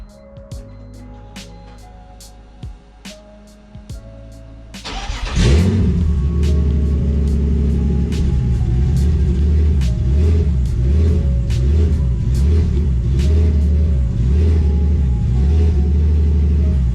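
A BMW E46 with a turbo setup and a newly fitted stage 4 clutch sits ticking with faint clicks, then the engine cranks and catches. It settles into a loud, steady, close idle that rumbles with slight rhythmic pulsing, and no one talks.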